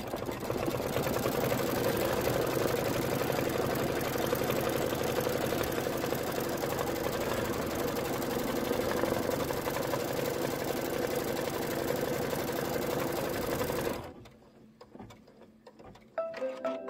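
An embroidery machine stitches a placement line on sign fabric for a candy corn quilt shop design, giving a loud, steady mechanical whirring rattle for about fourteen seconds before stopping into near quiet with a few small clicks.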